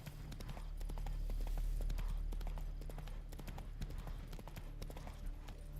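Roach, the horse from The Witcher 3, trots with a rapid, even clip-clop of hooves throughout, close and clear over a low steady hum of game ambience.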